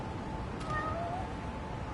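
A cat meows once in a video game, Lost Judgment, a short clear mew heard over a steady background hum with no talk.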